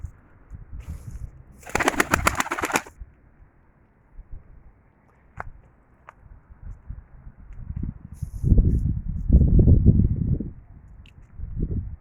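Sivas Sarıgöz blue pigeons coo in low, soft murmurs, with a brief burst of flapping wings early on and quiet gaps between calls.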